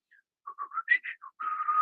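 A voice imitates a light, distant whistling call from an unidentified creature in the Michigan woods: a short run of soft, rising and falling whistled notes, then one longer sustained tone, heard alone.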